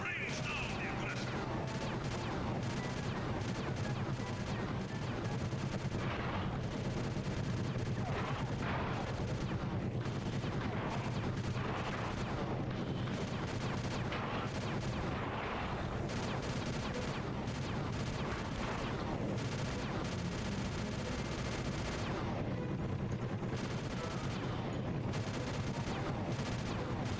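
Sustained gunfire and heavy blasts from gunships attacking a temple in a played video game, a dense continuous barrage of shots and crashes running throughout with voices mixed in underneath.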